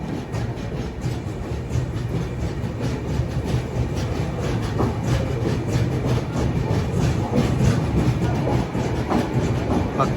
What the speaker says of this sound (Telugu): వద్దు, బండి స్టార్ట్ అయ్యింది.